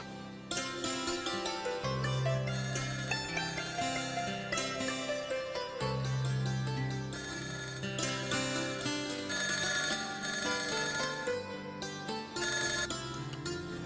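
Telephone ringing with a musical, melodic ringtone that plays continuously and loudly, layered with backing tones and no talking.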